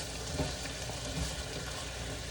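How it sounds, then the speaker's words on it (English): A pot of deconstructed stuffed pepper mixture with liquid aminos stirred over heat, giving a dense continuous sizzle with faint scraping movements, close and fairly loud, with no voices. "I'm gonna give that a little stir"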